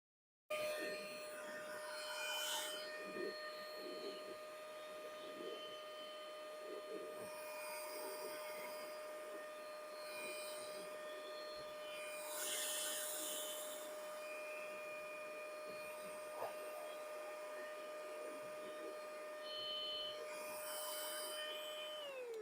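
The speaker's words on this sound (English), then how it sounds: "This is an air blower. It's kind of noisy, so sorry about that." A noisy handheld air blower drying ink on an ornament runs continuously with a steady motor whine and rushing air, changing slightly as it is moved, then cuts off at the end.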